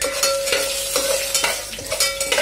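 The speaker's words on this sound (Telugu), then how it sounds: "ఆవ గింజలు ఇవి బాగా ఫ్రై అయిన తర్వాత కొద్దిగా వెల్లుల్లి వేసుకొని ఫ్రై చేయాలండి" Mustard seeds and garlic fry in hot oil for a vegetable kichidi, a steady close sizzle with rhythmic stirring scrapes, no talk.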